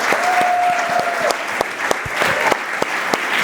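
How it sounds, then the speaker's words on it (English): An audience at a talk by a visiting swami applauds steadily, a dense wash of many hands clapping that runs unbroken and fairly loud throughout, with a sustained tone ringing faintly beneath it for a moment. "Can we have another round of applause for SP Keshava Swami and our interviews?"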